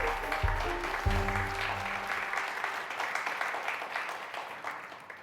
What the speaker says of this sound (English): That's a lot of applause